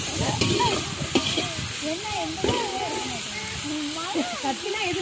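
Onion, ginger and garlic sauté in a pan with a continuous sizzle and intermittent stirring scrapes, while a person talks over the cooking throughout.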